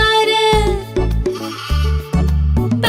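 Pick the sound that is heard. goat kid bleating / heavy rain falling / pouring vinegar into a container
goat kid bleating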